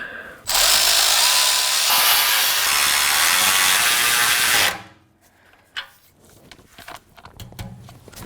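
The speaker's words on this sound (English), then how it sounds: "Let's get that bracket tightened down." A power tool whirs at full speed for about four seconds, tightening a bracket on a 2000 Acura Integra. It stops abruptly, followed by quieter clinks and handling noises close by.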